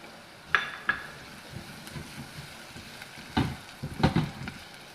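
Onions frying in olive oil give a quiet background sizzle, broken by a few sharp clinks and scraping stir strokes heard close up, with no talking.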